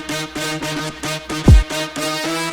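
Bright synth notes repeat in a steady rhythm with a light grainy texture and delay echoes trailing each note, plus a single deep low thump near the middle, with no voices.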